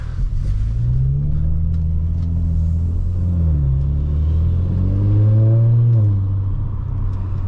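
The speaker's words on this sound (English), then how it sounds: "I'm gonna open the window a little bit so you can hear the exhaust some more." A 2018 Audi S4 with the 3.0T engine accelerates, heard from inside the cabin with a window cracked open. The exhaust makes a loud, steady low drone whose pitch sweeps and climbs as it pulls.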